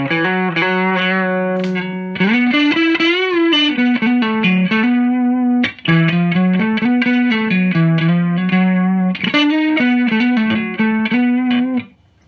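An electric guitar runs through a Varmint distortion pedal set for low-gain overdrive, playing loud, gritty sustained chords and riffs with a hard edge, briefly pausing before resuming and ending abruptly.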